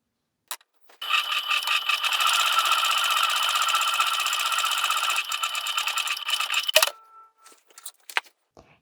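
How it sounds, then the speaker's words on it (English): A sewing machine runs steadily for about six seconds, top stitching along the long edge of a fabric makeup and travel bag, then stops with a few faint clicks and handling noises afterward. "we are going to go take this to the sewing machine"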